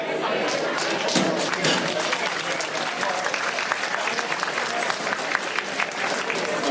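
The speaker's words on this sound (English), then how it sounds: "This is the applause for the self-sacrifice" A high school reunion crowd applauds in a dense, continuous roar of many hands, with faint voices and cheers mixed into the clapping throughout.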